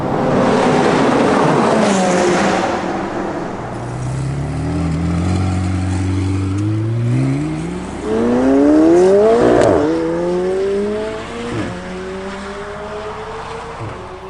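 McLaren 720S engine pulling hard, loud revs climbing through several quick gear shifts with the pitch dropping and rising again between changes, close and alone.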